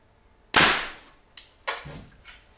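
A bow firing a hunting arrow fitted with a broadhead during broadhead tuning, heard as a sharp, loud snap followed by a few quieter thuds and slaps.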